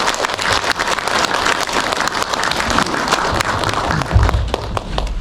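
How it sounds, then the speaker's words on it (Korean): Audience applause at a residents' briefing on the Junggye Jugong Block 5 apartment reconstruction, welcoming the Minister of Climate, Energy and Environment: steady, dense clapping from a crowd filling the room, with a few louder claps near the end. "힘찬 박수로 맞아주십시오."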